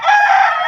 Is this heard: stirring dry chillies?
no